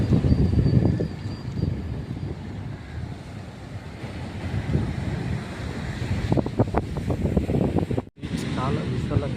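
Wind and sea waves at Yarada beach in Vizag, with steady wind buffeting the microphone and surf washing ashore, while a person talks over it.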